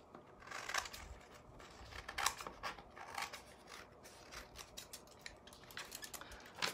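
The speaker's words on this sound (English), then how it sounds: "Okay, and then I'm gonna cut off both sides." Scissors snipping through vintage sheet music paper to make tassels, with a quick series of small crisp cuts and faint paper rustling, close but quiet.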